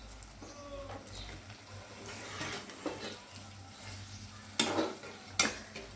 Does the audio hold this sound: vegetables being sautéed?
yes